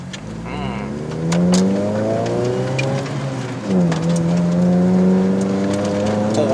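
A manual Suzuki Swift Sport with a 1.6L naturally aspirated engine drives up a slippery mountain road in Malaysia, its engine rising in pitch, dropping at a gear change, then climbing again, loud and continuous, while someone talks over it.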